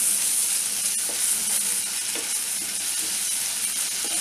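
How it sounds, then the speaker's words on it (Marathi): Ginger garlic paste sautéing with tomatoes in a pan for a dhaba-style chicken masala, a steady close sizzle and hiss with occasional soft scrapes of stirring, no voices. "आलं लसूण पेस्ट चांगली परतायची आहे आपल्याला."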